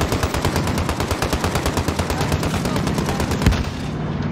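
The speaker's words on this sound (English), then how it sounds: "You see, they shooting my driver, and they're gonna kill him." Rapid sustained automatic gunfire in the Warzone armored royale game, sharp loud bursts fired at a truck's driver, a dense continuous rattle with one heavier thump near the end and no speech.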